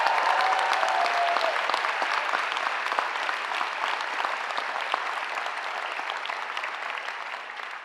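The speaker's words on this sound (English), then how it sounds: "Let's give them a round of applause." A large graduation audience at the 2019 NYU Stern convocation claps for parents and families, a full, even round of applause that tapers slightly toward the end.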